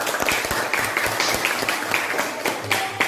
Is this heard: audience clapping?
yes